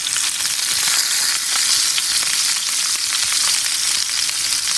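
Pork chops frying with onions in hot oil give a loud, dense, continuous sizzle, close and unbroken by speech.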